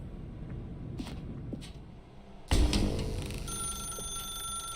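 Telephone ringing in the video game The Stanley Parable 2, bright electronic ringing tones with faint tapping before it, then a louder ringing burst over a low rumble.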